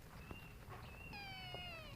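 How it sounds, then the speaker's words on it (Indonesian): A small kitten in the bushes gives a few faint, high meows, thin and drawn-out, against quiet outdoor background noise. "Wah, ada anak kucing."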